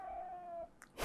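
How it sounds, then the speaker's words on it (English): Sasha the cat lets out a single drawn-out tonal meow, close and clear, followed by a faint short shuffle and a burst of rustling noise at the end. "I might as well introduce you to my beautiful cat Sasha."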